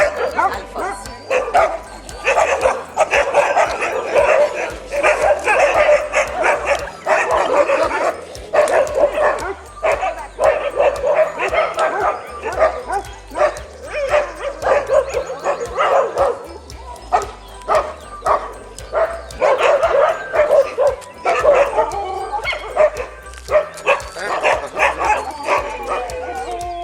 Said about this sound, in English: Really sweet dogs.